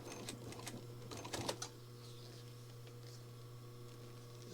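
A Juki sewing machine stitches fabric in a short quiet burst of fast ticking stitches over a steady low motor hum, then the hum carries on alone.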